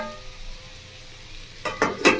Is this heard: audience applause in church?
no